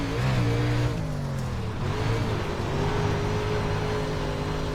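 Dirt race car engine in iRacing at Limaland, revving up with rising and falling harmonic whine, a brief dip near two seconds, then holding a steady drone, loud and close throughout with no talk.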